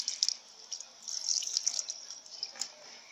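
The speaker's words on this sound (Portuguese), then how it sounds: "Eu vou lavar aqui minha mão, tá, gente?" Hands are rinsed under running tap water, with soap in use. The stream hisses softly and fairly faintly, with small splashes and drips scattered throughout.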